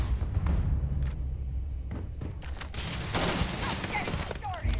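Bursts of gunfire from a weak weapon in the Starfield space game, with several sharp shots scattered through a busy, noisy combat soundscape.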